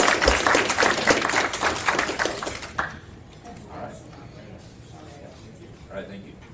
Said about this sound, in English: So I think a round of applause.